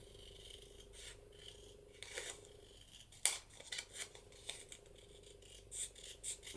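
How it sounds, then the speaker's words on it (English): Scissors trimming paper close up: a series of crisp snips and sliding cuts at an uneven pace, quiet, with no talk. "You can see I've still got some white on there, so I'm going to trim that off."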